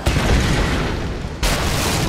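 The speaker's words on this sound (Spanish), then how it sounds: "Voy a usar la explosión." A loud, dense rumbling blast in Tomb Raider (2013) fills the clip, briefly dropping before a second surge of booming noise.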